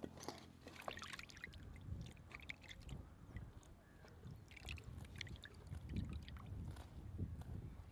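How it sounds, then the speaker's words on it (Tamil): Small raw prawns are rinsed in a bowl of water for a Jaffna fenugreek prawn curry, with soft close sloshing, trickling and handling sounds throughout and no talk. "இப்போ இறாலை நல்லா கழுவி எடுத்துருவோம்."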